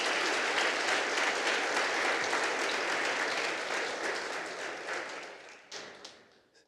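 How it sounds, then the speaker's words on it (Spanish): A church congregation applauding, dense sustained clapping from a large crowd that carries steadily, then thins and fades toward the end, with no voices over it. "Mis hermanos, démosle un aplauso al Señor."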